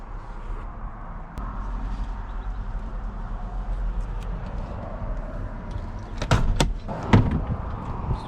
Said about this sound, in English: This door is pretty, I don't want the water to get in there, so gotta shut it good, just like that.